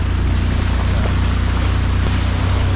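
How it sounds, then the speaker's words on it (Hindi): Motor of a small speedboat running on Tehri Lake, a loud, steady low drone mixed with wind buffeting and water wash, close and continuous without speech. "पीछे ना मोटर चल रही है।"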